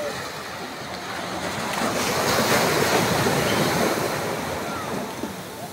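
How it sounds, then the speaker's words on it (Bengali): Sea waves at Cox's Bazar beach rolling and breaking in a steady broad roar, with wind buffeting the microphone throughout. "দেখছেন জায়গায় ঢেউ উঠছে"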